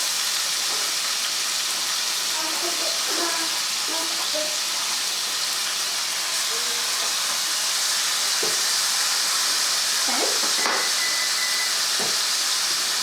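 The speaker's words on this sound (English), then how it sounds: "put it right in the frying pan" Stuffed salmon searing in a hot frying pan gives a steady, fairly loud sizzle and hiss throughout, with a few faint clinks and pan sounds near the end.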